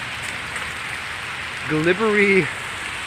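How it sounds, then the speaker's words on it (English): Steady rain falling at around freezing, a soft continuous hiss throughout, with a brief spoken word rising over it near the end. "right now we have around 0 degrees and it's raining"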